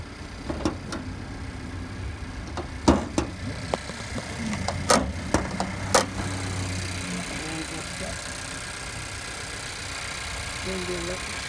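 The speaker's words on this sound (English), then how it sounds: "small engine look like a 4-cylinder or 6-cylinder." A 2018 Honda CR-V engine, on a wrecked salvage car, idles with a steady low hum, while scattered clicks and knocks sound near the start; no voices are heard.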